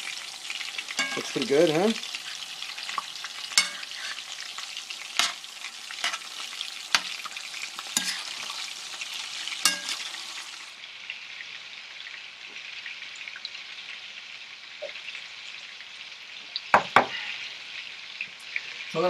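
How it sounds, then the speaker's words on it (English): Meatballs frying and sizzling in a pan, a steady crackling spatter with occasional louder pops and stirring clatter, close by, while a voice speaks briefly. "Meatballs cooking."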